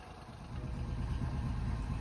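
A Honda 25hp three-cylinder outboard motor on an Orkney Strikeliner 16+ boat runs at a steady idle, a continuous low engine drone that stays even throughout.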